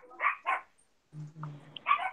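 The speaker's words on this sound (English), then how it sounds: "Ooh, sounds like a dog." A dog barks twice in quick succession, pauses, then gives a few more yips and barks at moderate distance, with no talking over it.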